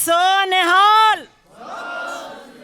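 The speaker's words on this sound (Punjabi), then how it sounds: "ਪਰ ਇੱਕ ਮੇਰੇ ਵੀ ਜੈਕਾਰੇ ਦਾ ਜਵਾਬ ਦੇ ਦਿਓ, ਬੋਲੇ ਸੋ ਨਿਹਾਲ।" A single voice raises a long, sustained Sikh jaikara call, and after a short pause a large gathering roars back its answer as a broad, massed shout lasting over a second.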